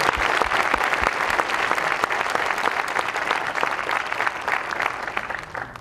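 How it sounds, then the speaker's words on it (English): A tech conference audience applauds in a continuous, dense burst of clapping with some distinct nearby claps early on, sustained at an even level throughout. "So maybe a round of applause for these guys and what they've done."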